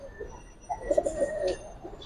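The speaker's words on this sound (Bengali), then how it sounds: "এই কবুতর দেখেন, আগুন কবুতর এটা" An old-breed pigeon coos once, a short soft rolling call close by, over faint background hiss.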